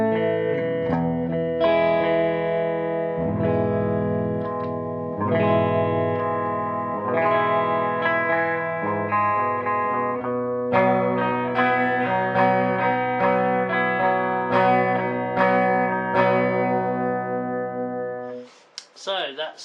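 Electric guitar played through the clean channel of a Marshall 3203 amplifier, ringing chords and arpeggiated notes with sustained, slightly chorused and reverberant tone, played alone for nearly twenty seconds before a brief pause and a few final notes.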